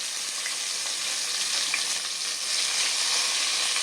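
Tomato frying in hot oil right after spices are tempered, cooking for a jackfruit kofta curry: a steady, close, bright sizzle that runs unbroken with no voices.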